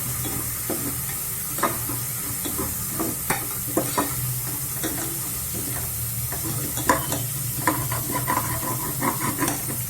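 Coriander being stirred into biryani masala with ginger-garlic paste in a pressure cooker, a steady sizzle under rhythmic scraping spoon strokes and occasional metal clinks, near and continuous without speech.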